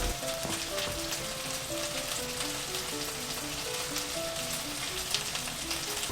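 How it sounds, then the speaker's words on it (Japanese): Chicken and paprika sear in a frying pan with a steady, dense sizzle throughout, close and even in level, with faint tonal ringing in the background and no talking. "鶏肉は片面が焼けたらひっくり返して空いているスペースにパプリカも加えます。"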